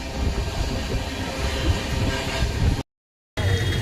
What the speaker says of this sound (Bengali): একটা মধ্যম গতিতে আমাদের ট্রেন চলেছে এই জঙ্গলের মধ্য দিয়ে।